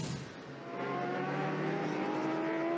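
Kawasaki WeBike Trickstar endurance racing motorcycle at the 24 Hours of Le Mans, after a trip into the gravel; the engine swells from a low rumble into a sustained rising whine heard at moderate distance.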